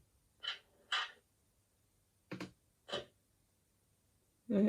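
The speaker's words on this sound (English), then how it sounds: "Function 10 is the cab door" Cab door sound effect from the DCC sound decoder of an Accurascale Class 60 model locomotive: a few soft, brief clunks and rattles of a door handle and door, spaced apart and fairly quiet, with a louder knock at the end.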